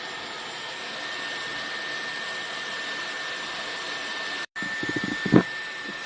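A Dyson Airwrap hair styler blows air steadily while styling hair, a constant close whooshing hum with a faint high whine, cutting out briefly near the end before restarting with a few soft handling knocks.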